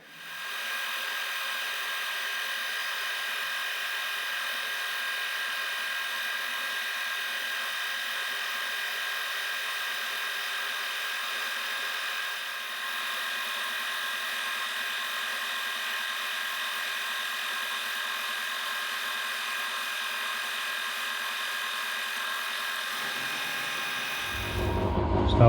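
A drill whines steadily at one constant pitch for about twenty-five seconds, drilling through metal, its motor droning without pause before it cuts off at the end.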